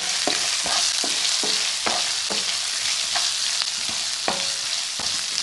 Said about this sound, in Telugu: ఆనియన్ కొద్దిగా సేపు ఫ్రై అవనియండి.